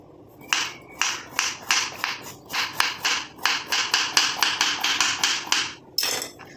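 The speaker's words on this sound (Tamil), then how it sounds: "இந்த கேரட் வந்து நம்ம குட்டி குட்டியாக கட் பண்ணிக்கலாம்" A knife chops a carrot into small pieces on a cutting board, a quick, steady series of close, crisp taps, about a dozen strokes, with no talking.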